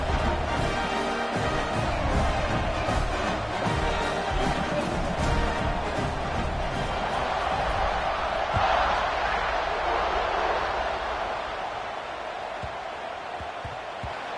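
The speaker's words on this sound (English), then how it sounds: "this crowd is buzzing after that last score" Dense stadium crowd at a Mississippi State versus Georgia college football game, a steady broad roar and murmur that holds evenly, swells slightly midway, then eases a little toward the end, with no clear speech on top.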